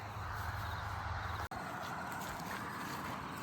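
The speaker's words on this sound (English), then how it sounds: "Sorry for the road noise." Road traffic from a nearby highway makes a steady, broad rushing roar that persists throughout, with one sharp momentary dropout partway through.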